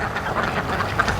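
Free-range ducks in a pair give a few soft, nasal quacks in quick succession, fairly close but moderate in volume over light outdoor background.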